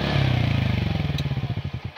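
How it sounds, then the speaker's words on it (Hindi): An NTORQ 125 Race Edition scooter engine revs and then winds down, its rhythmic pulsing firing slowing steadily, with a sharp pop partway through, heard close and loud. "तो दीपक भाई इसको थोड़ा सा स्टार्ट करो स्कूटर को और रैप करके दिखाओ।"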